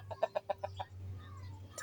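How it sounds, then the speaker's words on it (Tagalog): A fighting rooster clucks in a quick series of four or five sharp, close notes, then falls quiet over a steady low background hum. "Ayun ang manok, panabong yan."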